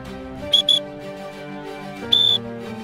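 A coach's whistle at sprint speed training gives two quick sharp blasts, then a longer blast a moment later, sounding over a low musical background.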